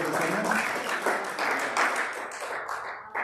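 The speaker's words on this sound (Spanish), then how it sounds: "Aquí hay un aplauso al Señor" Continuous applause from a church congregation, dense and fairly even, easing slightly toward the end with scattered voices underneath.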